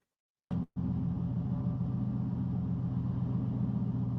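A RAM truck driven by a technician inside a dealership service area: after a brief start, a close, steady low engine rumble runs evenly to the end with no voices.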